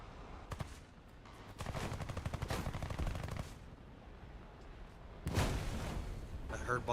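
Explosions and gunfire from the War Thunder combat game sound in repeated bursts and rattling volleys, with a louder blast near the end, under ongoing background noise and some voices.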